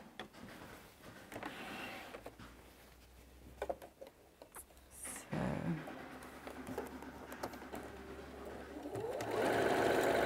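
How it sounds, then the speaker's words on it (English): Close, continuous rapid whirring of a sewing machine running a tacking stitch near the edge of fabric for a BBQ roll mat, steady throughout with brief pauses and handling noises. "I'll sew all the way around this section, very close to the edge"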